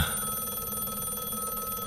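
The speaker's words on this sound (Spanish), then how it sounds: "Justo en ese momento suena el teléfono." A telephone bell rings steadily and loudly throughout, a continuous electronic ring with no talk over it.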